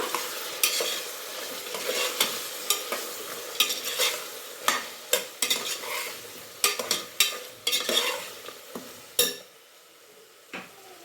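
Turmeric powder being stirred into brinjal gojju in a pan, a steady sizzle with frequent sharp scrapes and clinks of a spoon against the pan, close and alone.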